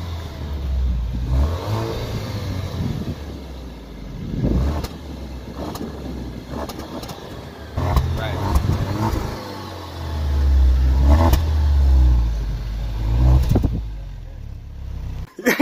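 A turbocharged four-cylinder 2017 Alfa Romeo Giulia's exhaust revs repeatedly, surging and falling in bursts of deep engine roar, with some talking mixed in.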